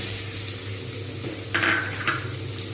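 Chopped onions fry in leftover fish-frying oil from cooking pomfret, giving a steady close sizzle with a louder burst of crackle as they are stirred partway through.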